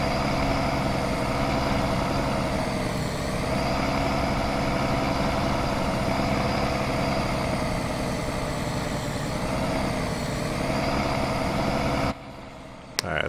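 A truck engine idles steadily in the Farming Simulator 19 video game, a loud continuous low rumble with a constant droning hum that holds unchanged for about twelve seconds before cutting off abruptly.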